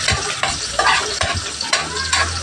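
Garlic sizzles as it goes into hot cooking oil, a close, continuous frying crackle with light clinks of a utensil stirring in the pan.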